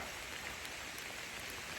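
Steady rain falling outdoors during a long walk, a constant dense hiss with no breaks and no voices, moderately quiet throughout.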